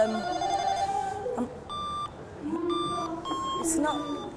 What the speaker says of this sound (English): I'm going to ring Polly